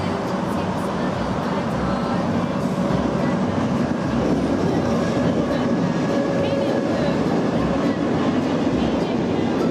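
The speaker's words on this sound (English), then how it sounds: "Train." Toy train makes a continuous rumbling, clattering rail sound at moderate level throughout, with faint high chirps mixed in.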